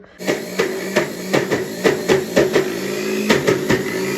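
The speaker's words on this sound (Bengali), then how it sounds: "এটা এখন ব্লেন্ড করে বিট করে দিয়ে নেবো" A kitchen blender beats soaked lentils into paste for dal bori, giving a steady motor whir punctuated by a regular series of sharp knocking pulses, close and fairly loud with no talk.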